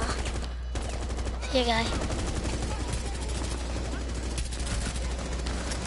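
Rapid gunfire in a video game, shots aimed at the player, rattling steadily throughout, with a brief spoken remark over it.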